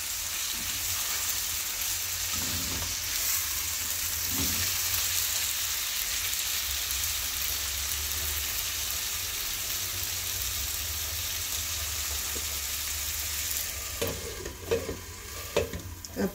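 Potatoes and crushed tomatoes frying over a high flame in a home kitchen, a continuous loud sizzle with the sound of stirring throughout and a few sharper clinks of the spoon near the end.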